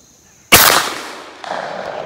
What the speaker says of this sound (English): 20 gauge slugs? Which one do I shoot?